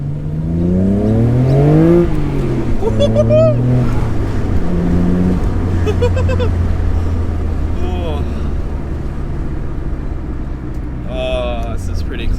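A turbocharged Japanese car accelerates on a road in a 50 zone, its engine heard up close from inside as it revs and climbs in pitch through the gears, with a person talking excitedly over it.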